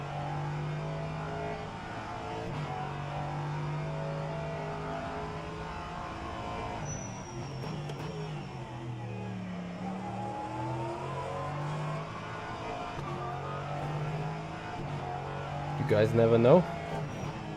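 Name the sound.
LMP3 race car engine in rFactor 2 video game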